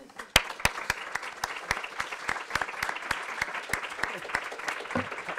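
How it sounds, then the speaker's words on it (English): An audience at a panel discussion on youth and migrant integration in Europe applauds the speakers, a steady spread of claps with a few sharp close ones standing out, lasting the full span. "please join me in applauding our speakers."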